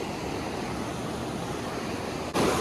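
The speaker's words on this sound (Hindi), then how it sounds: "और भाई पानी का फ्लो देखो" A mountain river rushes over big boulders near the Baba Dhansar temple on the Vaishno Devi route. It makes a steady, loud, close roar of flowing water that surges louder for a moment near the end, with no talking.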